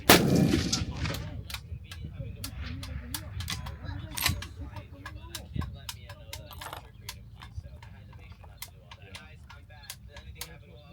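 Rifle shots from a custom 7PRC rifle during barrel break-in, a loud blast at the start followed by a ringing decay and scattered sharp clicks and ticks, with someone talking over it.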